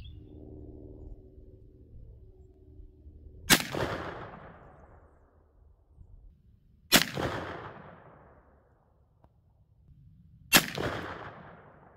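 Three shotgun blasts fired at about 25 yards with an improved cylinder choke, Federal Power-Shok .410 2.5-inch quarter-ounce slugs. Each loud, sharp crack rings out into a long decaying echo, spaced a few seconds apart, with a faint low hum before the first.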